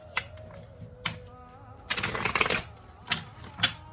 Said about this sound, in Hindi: This is my last shuffle.